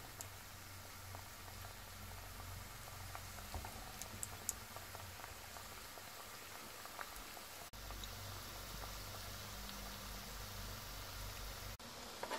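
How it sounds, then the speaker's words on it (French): Makrout semolina pastries frying in hot oil over moderate heat, a steady faint bubbling sizzle with occasional tiny pops and a low hum underneath. "Puis, on va mettre à frire les macroutes."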